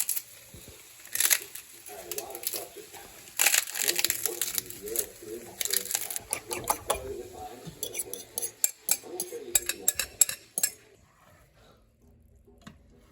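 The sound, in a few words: sauteing onions and garlic in a pan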